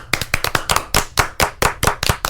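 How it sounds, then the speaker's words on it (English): A small group of people clap in uneven, sharp bursts, loud and close, with no voices. It sounds like a brief round of applause. "Round of applause."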